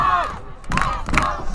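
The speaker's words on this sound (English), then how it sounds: "Let's go Lemont chants coming out from the crowd." A crowd at a high school soccer sectional final chants a rhythmic two-beat team cheer for Lemont, loud voices rising in short bursts over the crowd noise.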